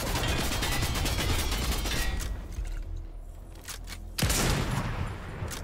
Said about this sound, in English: Missed the sniper shot though